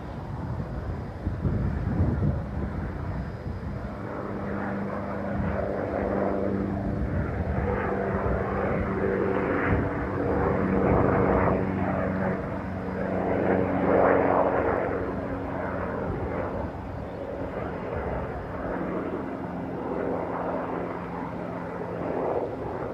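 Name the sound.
Fokker 50 propeller plane landing at Stockholm Arlanda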